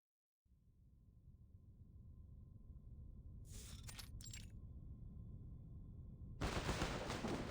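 Rattling gunfire in a video game, starting after a brief silence over a low rumbling drone, with a short burst of sharp shots in the middle and a louder, denser volley breaking out near the end.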